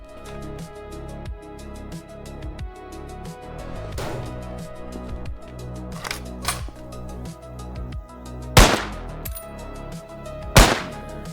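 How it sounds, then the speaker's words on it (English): A .50 cal rifle fires in the survival video game Cataclysm: Dark Days Ahead, with rapid repeated game gunfire sounds and two louder sharp blasts near the end over a busy synthetic background. "50 cal rifle"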